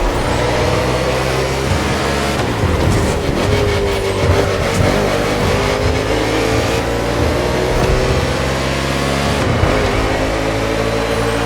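NASCAR stock cars race through Honolulu city streets in the driving game The Crew Motorfest. Loud, continuous engine roar with rising and falling revs as the cars accelerate and shift, with several engines overlapping close by.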